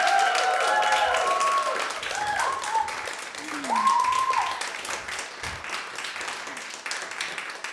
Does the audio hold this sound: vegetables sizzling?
no